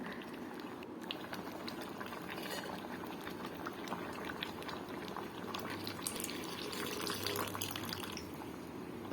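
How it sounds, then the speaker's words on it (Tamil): A pot of chow chow sambar bubbles and simmers at a steady rolling boil, close by, with a constant watery gurgle and no talking. "குழம்பும் கொதி வந்துடுச்சு"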